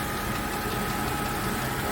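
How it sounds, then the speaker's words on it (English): A 2004 Land Rover Discovery II engine runs steadily up close with a slipped cylinder liner, giving a continuous loud mechanical drone with a faint knocking texture and no talk over it. "Here you go. Here's the engine."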